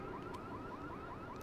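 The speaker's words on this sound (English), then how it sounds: "Trigger that alarm." A car alarm in the video game Watch Dogs wails with a rapid repeating up-down electronic whoop, steady and moderately distant.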